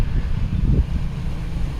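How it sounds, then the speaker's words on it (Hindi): Wind blows steadily through a garden in Lahore, a low, rough rumble that buffets the microphone, with a brief stronger gust near the middle and no voices. "इतनी प्यारी हवा होती है यहाँ पे"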